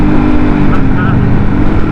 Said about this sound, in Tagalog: nagtanggal lang ng muffler para racing yung tunog